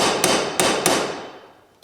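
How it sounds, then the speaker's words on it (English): Hammer blows ring out on a chisel driven against a bolt in the power takeoff of an International Farmall Super H tractor, three sharp metallic strikes with lingering ring, then a fourth fainter hit as the sound decays. "I'm just going to take a hammer and a chisel and a punch"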